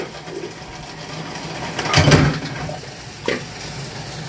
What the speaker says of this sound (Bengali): কষানো হয়ে গিয়েছে, এখন রান্নার জল দিয়ে দিচ্ছি।